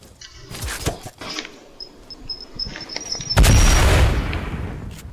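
Hand cannon gunfire in the Fortnite video game: scattered crackling shots and game effects, then one heavy, loud blast that booms and slowly decays, with no voices over it.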